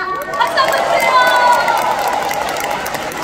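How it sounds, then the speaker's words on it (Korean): Audience at a trot concert in Daegu applauding and cheering for a 10-year-old trot prodigy, a sustained, dense wash of clapping and crowd noise that holds steady at a lively level throughout. "박수 한번 주세요"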